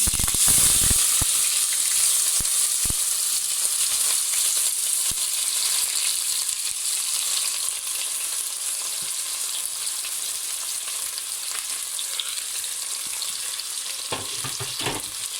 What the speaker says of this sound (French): Et là, nous voyons que l'huile a chauffé. On peut mettre déjà nos condiments.